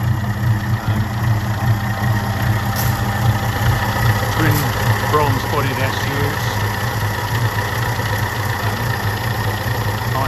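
A 1931 Alvis TK12/60 two-seater's engine idles steadily with a low, even rumble while someone speaks over it.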